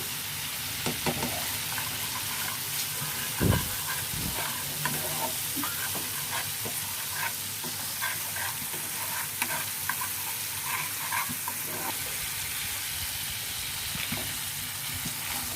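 Two torn bay leaves fry in hot oil in a pan, giving a steady soft sizzle with occasional scrapes and clicks from stirring.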